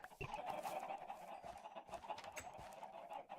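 Loose chickens in the Minecraft settlers world cluck and squawk steadily in a busy, overlapping flock sound. Quieter background noise runs under it and no one speaks.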